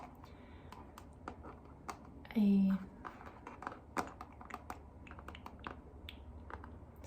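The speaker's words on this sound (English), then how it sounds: "I didn't know how the tapping would sound on the front because I do have like" Fingertips tapping on the glass of an iPad fitted with a paper-feel screen protector, producing quick, close, crisp clicks in an uneven rhythm, with a soft voice speaking over them.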